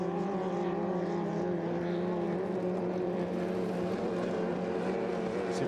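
A 2.5-litre racing hydroplane boat engine at the 2015 Beauharnois races drones steadily from a distance, a sustained buzzing roar at an even level with no clear breaks.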